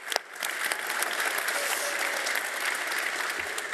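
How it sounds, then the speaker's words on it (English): Steady audience applause at a Firebase developer summit in Madrid, a dense, even wash of many hands clapping that holds its level throughout. "Round of applause."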